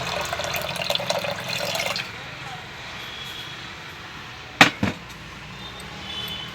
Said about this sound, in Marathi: थोडे पाणी घालून घेऊ